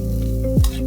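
Vegetable fried rice sizzling in a tiny miniature pan as it is stirred, a steady close fry with a brief scraping stir.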